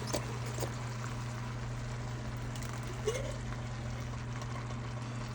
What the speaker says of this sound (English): Now we add our sauce.